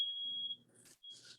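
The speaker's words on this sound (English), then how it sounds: "Do you hear that beeping outside? It's like a truck backing up." A single high, steady electronic beep outdoors, like a truck backing up, then a short second beep after a brief gap, with faint low hum underneath; no speech.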